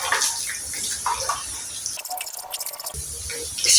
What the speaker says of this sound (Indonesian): Ini agak nyiprat-nyiprat ya, jadi minyaknya agak meletik gitu.